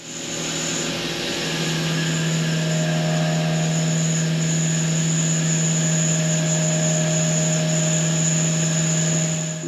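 A Tormach 1500MX CNC mill cutting 304 stainless steel, giving a steady, loud, close whine with sustained tonal hums and a high pitched edge that holds unbroken throughout.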